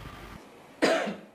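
A single sharp, close cough recorded for a tuberculosis-detection app, a sudden burst that fades quickly after a brief moment of quiet.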